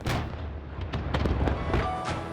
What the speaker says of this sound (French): Bangkok a maintenu son feu d'artifice